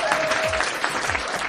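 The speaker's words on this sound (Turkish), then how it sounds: "Bir alkış alalım." Audience applause at the close of a Turkish television game show segment, a steady wash of many hands clapping, loud and close for the whole brief moment, with faint crowd noise beneath.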